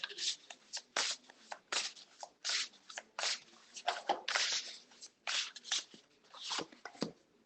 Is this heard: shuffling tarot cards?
yes